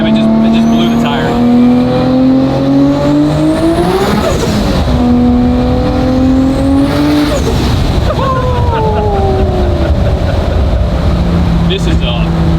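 A 1500-horsepower Dart with a 3.2-litre 2JZ stroker engine on 40 psi of boost winds up loudly and nearby, then shifts into second gear and pulls again. Excited voices talk over the engine.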